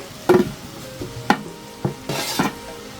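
Green chillies hit hot oil while making fish pickle: a few sharp scrapes and stirs of a utensil in the pan, with a short sizzle burst near the end, moderately close.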